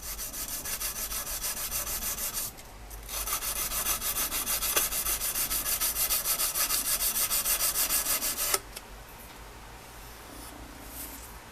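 A knife blade is hand sanded with the tool held flat, making a steady, close rasping scrape of rapid back-and-forth strokes that pauses briefly and then stops near the end.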